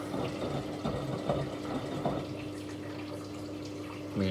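Water pouring steadily into a Hoover A3060 Electronic 1100 washing machine during its fill, a continuous rushing hiss with a low hum underneath and a few soft knocks, no talking.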